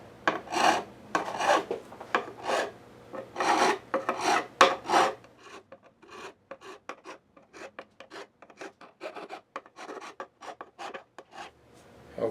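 A leveling file rasps across guitar frets during a partial re-fret of a Gibson J-150 or Guild D-50 acoustic, first in slower, heavier strokes, then in a quick run of short, close, dry scrapes with no talking.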